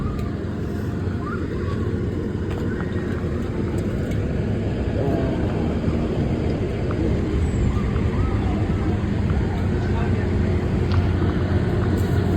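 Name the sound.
fire truck at a fire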